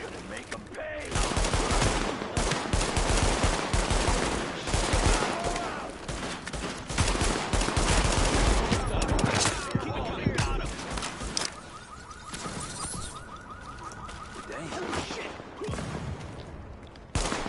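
Rapid bursts of automatic gunfire and scattered single shots in Tom Clancy's The Division, loud and dense for most of the stretch, easing toward the end, with voices talking over the shooting.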